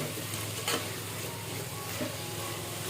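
Vegetables sautéing in oil for vermicelli upma, a steady close sizzle and frying crackle with light stirring scrapes throughout, no talking.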